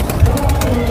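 Pigeons coo softly close by amid a busy murmur, with a voice talking in the background.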